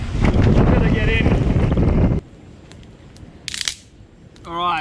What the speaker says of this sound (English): It's getting too rough out here. Super windy, super choppy.